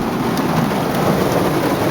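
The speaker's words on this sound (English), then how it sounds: "It's raining pretty hard." Hard rain pours steadily during a storm, a dense, loud, unbroken hiss with low rumbling underneath, as heard from inside a vehicle with the window partly open.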